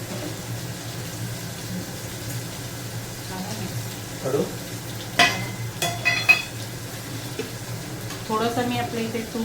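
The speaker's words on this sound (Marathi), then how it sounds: "आता मी इकडे या साईडला पुलाव घालते फोडणीला." Pulao rice tips into hot ghee and oil tempering in a home kitchen, giving a steady close sizzle with a few clinks and scrapes of stirring midway and near the end.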